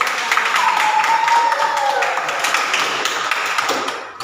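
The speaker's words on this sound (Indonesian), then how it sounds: "kasih tepuk tangan dulu" Students in a micro-teaching religious education class give a round of applause, fairly light, scattered clapping with a faint sustained tone running beneath, easing off toward the end.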